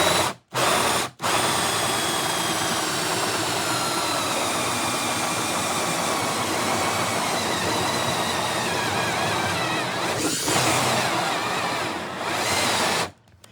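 A 4-inch hole saw on a cordless drill cuts a fan opening in a solar generator box. A loud, sustained grinding roar runs for about ten seconds after two brief starts, then stops and restarts near the end.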